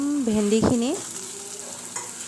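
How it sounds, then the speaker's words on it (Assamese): Ground masala frying in oil in a pan, stirred with a spoon; a soft sizzle runs under a couple of quick scraping stirs near the start, then settles into a quieter steady crackle. "এইখিনি ভালকৈ তেল ওলোৱাকৈ ভাজি লওঁ।"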